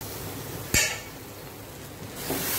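A lid set down onto a pan of potatoes and okra cooking on a home stove, giving one sharp metallic clink followed by a softer clatter, with faint kitchen background hiss.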